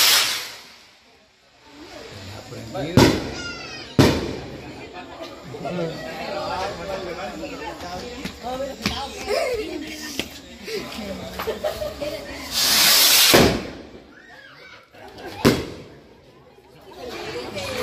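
Firecrackers burst at an island family gathering, a few sharp loud cracks and one longer hissing fizz, scattered among lively chatter and people talking nearby.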